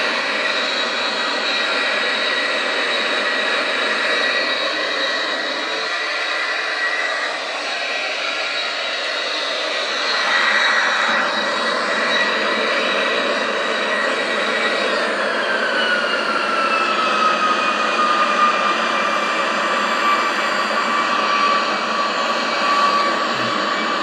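Jet engines of an El Al Boeing 737-800 in Microsoft Flight Simulator X drone steadily and loudly with a high whine throughout, shifting pitch partway as thrust is adjusted, with no talk over it.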